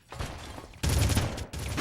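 Full-auto gunfire in a PlayStation 2 video game, sustained rattling bursts with a brief break between them, moderately loud, with no speech.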